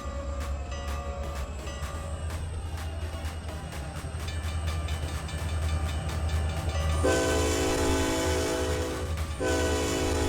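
A locomotive in a Trainz 2019 railroad simulator rumbles steadily with rhythmic rail clicking, then a loud sustained chord horn sounds for a couple of seconds near the end, with no voices.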